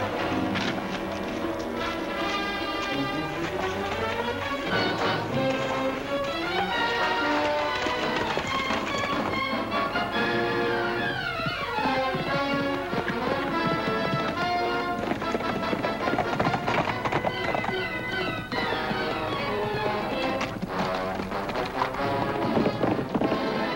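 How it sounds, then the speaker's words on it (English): Horses gallop with rapid clip-clopping hooves in an old western TV episode, the hoofbeats mixed under loud orchestral music that plays throughout. "Let's get our horses, Lofty."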